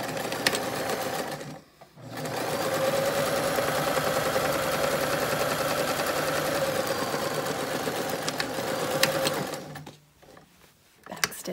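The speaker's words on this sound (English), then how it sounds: "So we're going to sew these right sides together." A sewing machine runs steadily for several seconds, stitching face mask fabric right sides together, a close, even mechanical whir that stops briefly near the start and again near the end.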